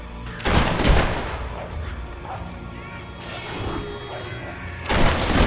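Soldiers fire their guns in the fantasy video game Fable 3: a loud burst of gunfire near the start, a quieter stretch with game sounds, then another sharp burst at the end.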